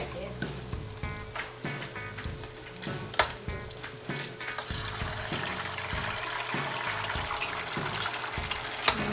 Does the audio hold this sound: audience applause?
no